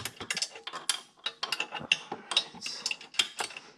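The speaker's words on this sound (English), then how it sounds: "just get your ratchet, make sure it's on the loose end" A ratchet wrench cracks loose the exhaust studs threaded into the motor of a Honda Navi, giving a fast, close run of sharp metallic clicks and ticks that continues unbroken for a few seconds.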